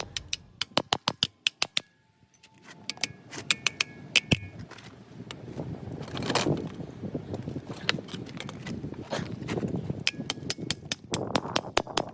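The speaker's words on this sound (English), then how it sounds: "I'm going to undo these intake bolts" Bolts are undone on the intake of a Chevelle engine during a strip-down: a quick run of sharp metallic ratchet clicks, a pause, then scattered clinks and rattles over a low workshop background.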